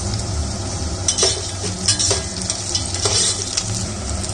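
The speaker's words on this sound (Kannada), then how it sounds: "ಈರುಳ್ಳಿ ಸ್ವಲ್ಪ ಬೇಗ ಫ್ರೈ ಆಗಲಿ ಅಂತ" Onions frying with a pinch of salt in a pan, a continuous sizzle with repeated scraping stirs and light metal clinks of a spoon against the pan.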